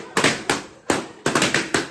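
A rapid series of sharp, loud balloon pops bursts out one after another in irregular clusters, close by, at a birthday celebration, with no talking.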